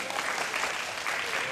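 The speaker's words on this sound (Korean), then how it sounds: "우리 박수 한번 보낼까요?" A church children's camp crowd applauds steadily, a dense wash of clapping hands at moderate volume from start to finish.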